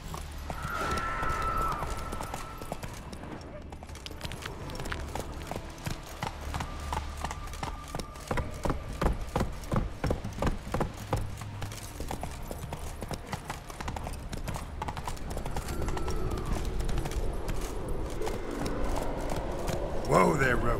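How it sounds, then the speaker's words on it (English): Steady clip-clop of horse hooves from The Witcher 3 video game, a continuous rhythmic trot running the whole length with game music and ambient sound beneath, fairly loud and close. "Whoa there, Roach. That's it, Roach"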